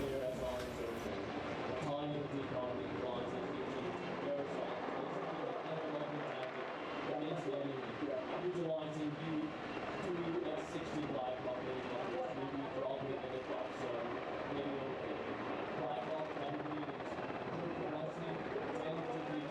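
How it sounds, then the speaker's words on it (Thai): Two Thai Army Black Hawk helicopters ferry troops during a Cobra Gold 2025 live-fire exercise, their dense, steady rotor and engine roar holding loud and constant throughout with no break. "โดยเป็นการลำเลียงกำลังพลเข้าโจมตีที่หมาย ด้วยเฮลิคอปเตอร์แบบ Black Hawk ของกองทัพไทยจำนวน 2 ลำ"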